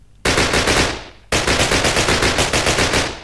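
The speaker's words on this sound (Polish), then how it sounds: "Karabin maszynowy. Bardzo, bardzo fajny." Machine gun fire in a Minecraft WW2 mod, two loud bursts of rapid shots, the first about a second long and the second a longer rattling run, close and alone with no talking.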